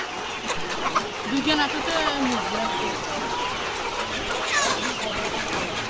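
Layer hens cluck and call in a noisy enclosure while a person talks over them; the clucking is steady and close throughout.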